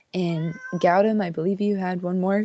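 A house cat meows loudly and repeatedly right beside the microphone during an online academic meeting, with someone speaking over the drawn-out cries.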